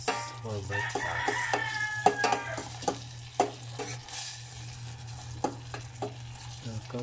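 Corned beef and onions stirred in a frying pan at breakfast, a steady sizzle under repeated scraping strokes of a utensil against the pan, close and moderately loud, with faint bird crowing in the background.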